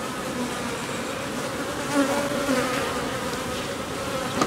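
Honeybees swarm and hum around a beehive on Tetiaroa atoll in French Polynesia, a dense, steady buzz that stays close and even throughout, with a few brief swells.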